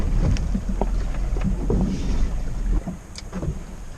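Steady wind gusts across a lake buffet a microphone on a small fishing boat, with low rumbling wind noise and scattered light knocks and water sounds throughout.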